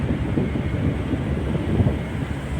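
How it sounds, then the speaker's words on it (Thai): A passenger train arrives at Ban Phlu Ta Luang railway station in Thailand, a continuous loud low rumble of rolling wagons with steady rail noise and no talk. "ขบวนมาแล้วเป็นขบวนที่สองแปดสี่นะครับ"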